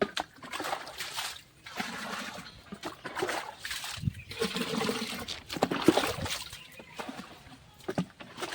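Water trickles and splashes steadily into household containers being filled during heavy rain, a continuous close running-water sound with varying gurgles and splatters and no talking.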